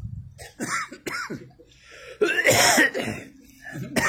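Someone in Vaasa, Finland, coughs and clears their throat while eating surströmming, a fermented Baltic herring. Several harsh bursts come close to the mic, with a longer, heavier fit in the middle and some talk around them.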